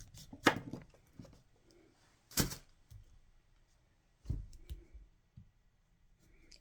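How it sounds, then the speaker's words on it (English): A knife cutting the end off a rutabaga, a few sharp separate chops and thunks on a board with quiet pauses between, close and unaccompanied. "Now I just take the rutabaga and go ahead and cut more of the end off."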